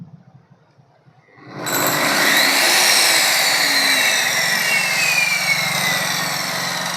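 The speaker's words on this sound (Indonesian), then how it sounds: "kawan-kawan bisa dengar suara mesinnya" A machine motor wired through a soft start circuit switches on after a brief quiet moment, swelling smoothly over about half a second into a loud, steady whirring drone that holds to the end.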